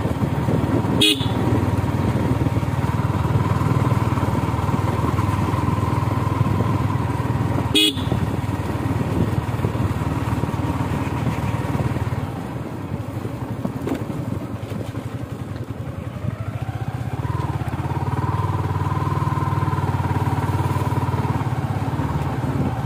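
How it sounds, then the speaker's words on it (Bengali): A motorcycle engine drones steadily while riding along a village road, recorded from a helmet-mounted phone, with loud wind rush, two sharp horn toots early on, and a brief dip in engine noise midway. "আর গাড়ির সাউন্ড মনে হয় একটু বেশি হবে আজকে।"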